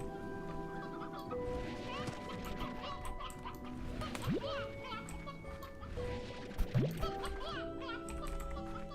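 Steady chicken clucking fills the scene in a busy Slime Rancher game soundscape, with tonal chimes and a couple of rising effect sounds over a constant background bed.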